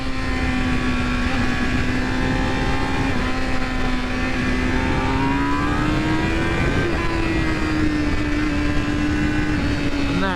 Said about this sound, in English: And that engine is such a screamer.